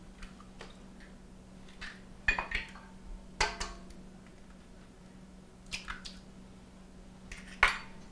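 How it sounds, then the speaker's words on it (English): Two eggs crack against a bowl rim and drop into a dough-like mixture. There are several sharp close taps and clinks with soft wet squishes, spaced apart over a steady low hum. "we're gonna take 2 eggs, crack them in"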